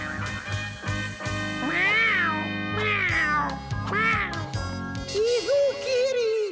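A hypnotized cartoon character meows like a cat in a series of drawn-out, wavering cries, loud and close, with a voice imitating the animal.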